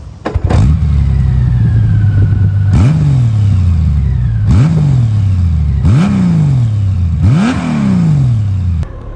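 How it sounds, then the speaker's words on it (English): A 2023 Honda Goldwing Tour motorcycle's engine and exhaust growl loudly through about five repeated rev-ups, each rise sharply followed by a falling note, with no talk. "And it certainly has more growl to the exhaust note."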